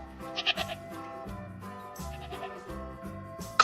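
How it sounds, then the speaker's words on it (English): A goat bleats several times in short wavering cries, moderately loud and near, over a steady background with no voices. "Goat."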